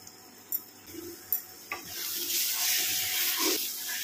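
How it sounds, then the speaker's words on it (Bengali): Chicken masala with tomato paste frying in a pan, a few sharp spoon taps and scrapes at first, then a steady broad sizzle as the masala cooks under constant stirring, close up and without talk. "এটা কিন্তু অনবরত নাড়তে হবে, নইলে তলায় লেগে যাবে"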